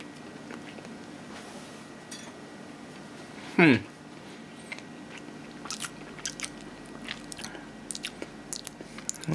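A freshly baked doughnut, still warm from a doughnut pan, is eaten with soft chewing and small crunchy bites, a brief loud noise near the start, and quiet sounds close by.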